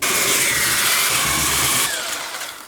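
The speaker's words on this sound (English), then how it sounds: "I'm going to sand this back about 1 foot" A power sander grinds across a wood floor with a loud, harsh, continuous buzz for about two seconds, then cuts off and the noise fades away.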